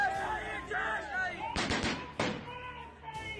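Militants fire AK-47 rifles in a training camp while chanting slogans: two sharp, loud bursts of gunfire crack out over shouting voices and crowd noise.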